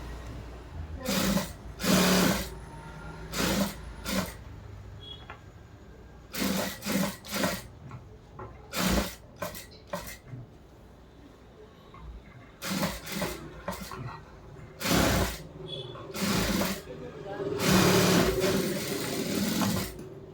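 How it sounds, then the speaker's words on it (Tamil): Sewing machine stitching the front neck of a churidar top, running in repeated short bursts with pauses between them, close and fairly loud, no talking. "நான் வந்துட்டு ஸ்டிச் போடுறேன்"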